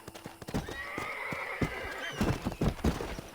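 In the mobile game Red Dead Redemption, a lassoed horse gives a long, loud neigh over rapid clip-clopping hooves and heavy thuds, with no talking.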